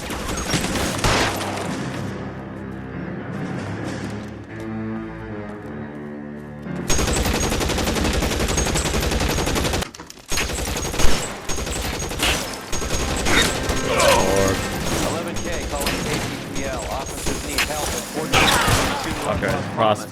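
Rapid gunfire in the video game L.A. Noire as officers come under fire: dense bursts of shots, some rapid like a machine gun, over music and shifting game noise.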